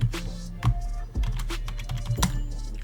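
Password typed on a computer keyboard while setting up SteamOS on a Legion Go, a close run of irregular soft key clicks at moderate loudness.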